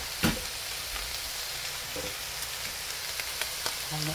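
Bamboo shoots for adobo frying in a pan, a dense steady sizzle with occasional light scrapes and taps of stirring, close and loud.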